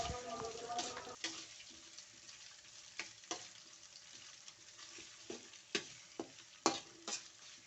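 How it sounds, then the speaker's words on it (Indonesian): Soft scraping and tapping of a spoon stirring ground spice paste with ginger and galangal in a pan, with a faint sizzle beneath and irregular clinks recurring every second or so at low volume. "Lalu kemudian diaduk-aduk dan tunggu hingga"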